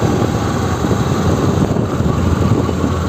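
A Honda Shine 125 motorcycle engine runs on the road with a loud, steady, low drone and constant wind rumble, with no distinct gear change standing out.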